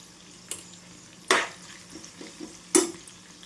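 Cumin seeds hit a hot pan and are stirred, giving three short bursts of sizzle and clatter spaced about a second apart over a low background of frying.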